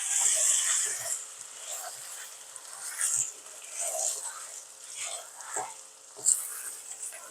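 Chunks of Eid sacrificial meat fry in a pan with a faint, airy sizzle, broken by occasional soft knocks and scrapes of stirring.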